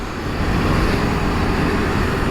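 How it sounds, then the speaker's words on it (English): Dense highway traffic with many trucks, heard from a moving KTM 390 Adventure motorcycle on the road from Bangalore, a steady loud roar of engines and road noise with no pauses. "Lot of trucks, man. Lot of trucks."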